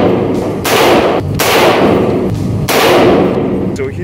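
Rifle shots fired through an ATIBAL Velocity 1-4x scope during a five-shot group at 25 yards, loud sharp reports spaced about a second apart with a ringing decay after each one, no talking.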